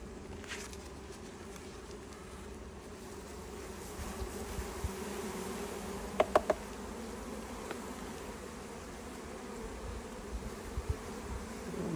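Honeybees hum steadily around an open Langstroth hive during an inspection, a dense continuous drone close by with a few sharper bursts midway.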